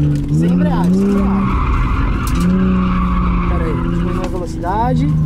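Car tires squeal in long rising and falling skids while the car does donuts, with a loud engine revving throughout and a voice talking over it at close range.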